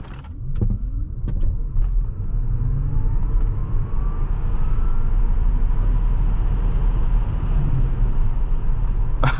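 A Tesla Model S 75 electric car with a 75 kWh battery accelerates hard, a loud, continuous whine and road rumble rising steadily from inside the cabin, with a few clicks at the start.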